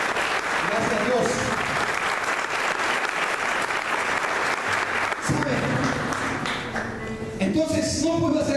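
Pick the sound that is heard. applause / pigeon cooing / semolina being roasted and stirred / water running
applause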